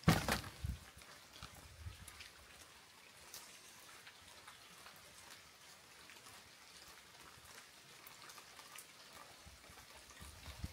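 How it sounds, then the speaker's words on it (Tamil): Heavy rain falls outside a cottage in a forest, a steady dense hiss of drops on surfaces that runs unbroken from start to finish, with a few louder splashes near the beginning. "இப்போ செம்மையாக மழை பெய்யுது."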